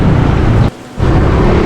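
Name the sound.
rain falling, with possible thunder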